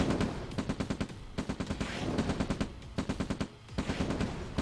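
Rapid bursts of video game gunfire as troops open fire on an enemy expansion in a real-time strategy match, clustered volleys repeating throughout, loud and close.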